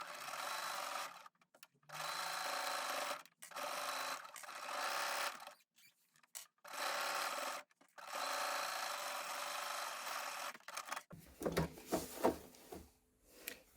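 A sewing machine sews the pocket hem of a zero-waste fabric eco bag, running in repeated steady whirring bursts broken by brief stops, close and clear, ending with some rustling handling of fabric.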